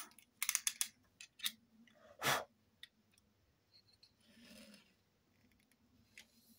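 Paper being cut straight along a ruler for a 20x20 album, heard as a few close, crisp scraping strokes and clicks, one longer loud swipe in the middle, with soft breathy rustles between.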